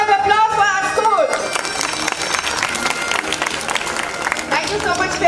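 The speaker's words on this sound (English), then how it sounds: "So big round of applause for our school." An audience at a pre-primary school graduation gives loud, continuous applause with dense clapping, and a few cheers and crowd murmur blend in. It is sustained throughout, with some voices talking underneath.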